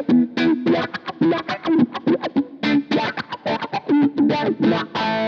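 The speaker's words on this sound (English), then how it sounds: "we got the wah-wah, an effect that alters the tone and frequencies of the signal to create a distinct sound that mimics the human voice" An electric guitar played through a wah-wah effect gives a rapid run of short, distorted notes, each with a vocal-like sweeping tone, loud and close, with no talk.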